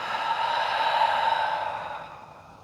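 A slow, deep breath drawn in and let out during a yoga session, one long soft airy exhale fading away close to the listener, with no talking.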